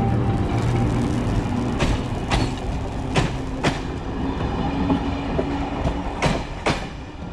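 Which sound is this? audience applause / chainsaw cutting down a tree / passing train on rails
passing train on rails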